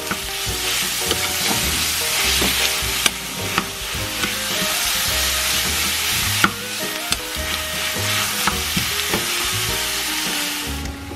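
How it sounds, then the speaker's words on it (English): Ground pork browns loudly in a hot pan with a continuous sizzle and fry, and a spatula scrapes and stirs through it now and then, with a few sharp knocks. "continue browning your pork"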